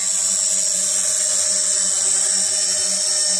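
Snaptain SP600N GPS FPV drone motors idle close by, giving a steady high-pitched whine with a faint low hum beneath it, continuous and unchanging throughout.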